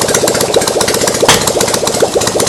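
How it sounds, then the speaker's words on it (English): A carbon-fouled generator engine running in a mounting frame near 800 RPM, a loud, steady close chugging throb with a sharp backfire pop partway through. "Got a bit of backfiring, probably because it's coked up"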